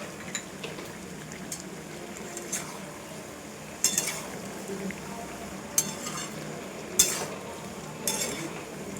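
Potatoes and papaya frying in a pan for a chickpea and papaya curry, with a steady soft sizzle and a few sharp spatula scrapes against the metal at irregular intervals.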